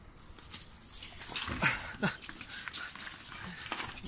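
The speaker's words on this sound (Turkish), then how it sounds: "Çok güzel bir köpek bu." Dogs at an animal shelter, with short whimpering and yipping sounds rising over a busy, noisy background, fairly close and irregular across the few seconds.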